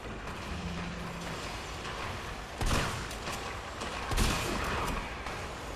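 Gunfire in the Resident Evil 3 remake: two heavy, booming shots a couple of seconds apart, standing out from a dense, noisy game background.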